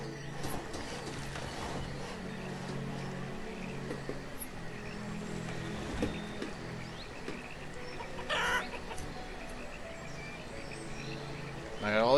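Chickens clucking in the village-building game Banished, a steady murmur of game-animal cackles beneath someone talking throughout, with a brief louder burst near the end.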